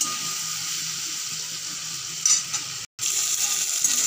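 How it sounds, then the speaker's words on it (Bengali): Potatoes and cauliflower fry in a pan with salt and turmeric, giving a steady hiss and sizzle that breaks off briefly near the end and then resumes, with no talking. "5-7 মিনিট ভালো করে ভেজে নেব।"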